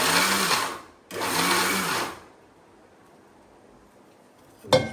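A mixer grinder grinding peanuts whirs loudly in two close bursts separated by a short pause, then stops.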